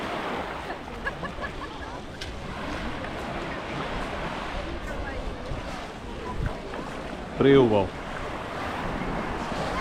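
Gentle waves wash along a calm beach in the afternoon at Utjeha, Maslina Bay, Montenegro, under steady wind noise, with a brief spoken comment and a short burst of sound near the end.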